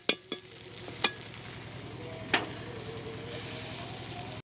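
Potato filling for rolls being stirred with spices in a pan on a home stove, a few sharp scrapes and clicks of the utensil over a steady low sizzle and hum, close by with no talk.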